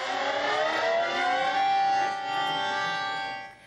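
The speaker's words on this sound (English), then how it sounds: "That's the sound of the new emergency alert system being introduced to the Washington area." Emergency alert system tone for an Amber child-abduction alert broadcast in the Washington area: a loud, steady, harsh two-tone electronic warning blare with dense buzzing harmonics, sounding continuously alone for a few seconds before cutting off.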